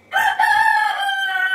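A rooster crows nearby, a loud drawn-out call with a short break near its start, carrying clearly with no voices over it.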